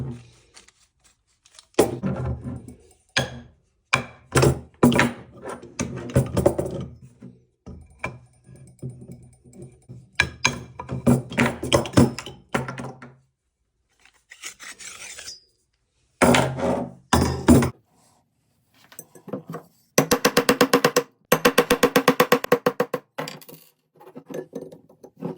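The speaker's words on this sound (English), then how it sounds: "We'll punch the split pin out, and then we'll replace the tube." Split pin being punched out of Tama Titan drum hardware: a run of sharp metallic taps and knocks in uneven bursts, close and fairly loud, with pauses between groups and a dense rapid clatter near the end.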